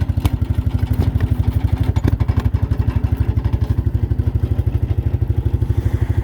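Carbureted ATV engine running on full choke after a cold start, a steady fast idle with rapid even firing pulses and mechanical clatter, loud and close with no talk.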